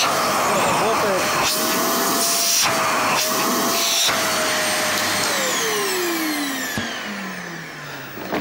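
A household vacuum cleaner, just repaired after a loss of suction, whines steadily at close range, its motor pitch rising and then dropping as it winds down near the end, with a few knocks over the drone.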